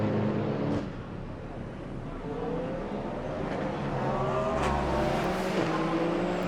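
Toyota endurance race car at the Circuit of the Americas in Texas, engine droning and rising in pitch as it accelerates, then a brief lull before another passing roar, moderately distant.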